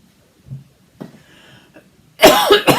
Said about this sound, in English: This cough is driving me insane